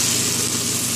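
Rice tipped into a hot pan for vegan vegetable fried rice, giving a steady, close, even sizzle that holds through the whole short moment without breaks or voices.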